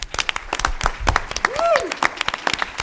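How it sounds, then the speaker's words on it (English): A conference audience breaks into scattered applause, with a rising whoop-like voice cutting through the brief burst of claps. "I think she deserves another round of applause."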